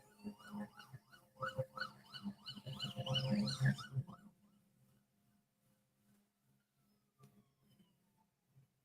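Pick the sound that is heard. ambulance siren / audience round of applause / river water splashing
ambulance siren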